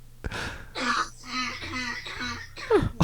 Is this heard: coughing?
yes